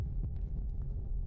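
A low, muffled heartbeat throbs in the video game Forewarned, a few soft thumps in a steady rhythm over a deep, humming rumble.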